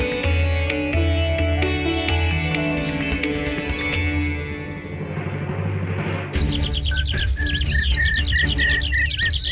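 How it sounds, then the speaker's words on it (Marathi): Many small birds chirp and tweet together in a dense, lively chorus, with bright repeated calls rising near the end over a steady background. "एवढा किलबिलाट कशाला?"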